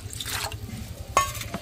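One and a half measured bowls of water pour into a pan for a cabbage Manchurian sauce, a brief close liquid splash with a few drips and clinks.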